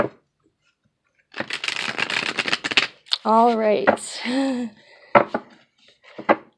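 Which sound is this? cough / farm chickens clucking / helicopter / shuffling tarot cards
shuffling tarot cards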